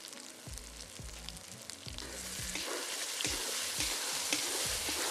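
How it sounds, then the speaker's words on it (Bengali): Kadaknath chicken meat sizzles and fries with spices in a pan, with rhythmic scraping strokes of stirring and a steady crackling sizzle building louder, close and without talk. "মশলা আমি খুব সুন্দরভাবে কষিয়ে নিয়েছি, এবারে মাংসটাকে দিয়ে ভালোভাবে কষিয়ে নিলাম।"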